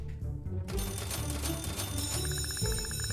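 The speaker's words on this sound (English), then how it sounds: "Okay, you rotten kids, that's the bell" A school bell rings in the video game Kindergarten, a rapid metallic trilling clatter over a busy game soundtrack, continuous and fairly loud, with no voices.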